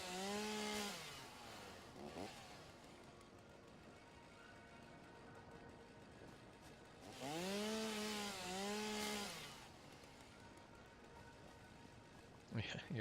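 A chainsaw in an automation video game revs in two loud bursts, falling and rising in pitch, with a quieter idling drone between them and a brief sharp burst at the end.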